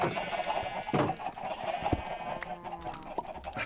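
Chickens cluck in a Minecraft game, several overlapping calls with short bursts and clicks, fairly close and steady with no talking over them.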